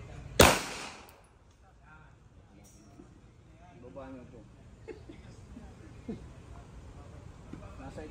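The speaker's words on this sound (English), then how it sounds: "Firing." A single sharp gunshot cracks loud and close at a resort farm shooting range near the start, then fades into quieter outdoor background with people talking.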